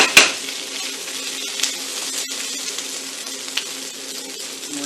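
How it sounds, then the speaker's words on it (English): Red wine hits a hot pan to deglaze it for braised short ribs. It gives a steady, close sizzle with a sharp hiss at the start and faint clinks of a utensil. No talk. "we're going to go ahead and deglaze with our red wine"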